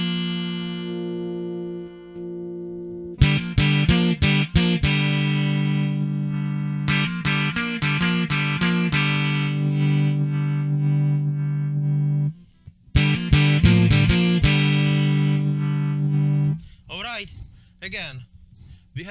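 A Stratocaster-style electric guitar with passive EMG 7K single-coil pickups, tone knob set midway, rings out clean in bright sustained chords and quick strummed bursts, loud and close with no talking over it.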